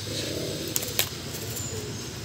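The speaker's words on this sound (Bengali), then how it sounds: "এবার দেখুন একটা কালশিরা পায়রা" A Kalshira pigeon, an Indian high-flying breed, coos in a low, steady burble close by, with a couple of brief sharp clicks partway through and no talking.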